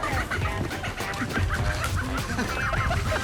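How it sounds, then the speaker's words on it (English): Chickens roaming loose, not caged, cluck and squawk in agitation as one is chased, a dense busy flurry of close calls lasting throughout with outdoor noise underneath. "Not easy to catch a chicken."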